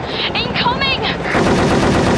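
Machine gun fire in the PS2 shooter Cold Winter, a loud rapid burst with metallic ringing tones, then denser continuous fire toward the end, close and alone.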